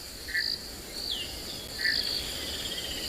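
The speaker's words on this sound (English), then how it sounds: "There's a mud wallow not so far away, which you can tell from the frogs that you can hear calling." Frogs call near a mud wallow on a South African safari reserve on a rainy morning, giving several short, high, chirping notes at a moderate distance over a soft outdoor hush.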